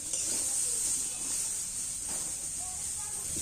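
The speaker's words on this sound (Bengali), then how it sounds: "এইগুলোকেও আমি একটু বাকি তেলটার মধ্যে ভালো করে ভেজে নিচ্ছি" Steady broad hiss of vegetables, beans, peas and carrots, frying in leftover oil in a wok, continuous and close with faint clinks and stirring over the sizzle.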